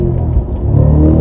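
A 2022 Cadillac CT5-V Blackwing pulls at about half throttle, its engine note rising in a strong, close, continuous roar with some mechanical whir and clatter.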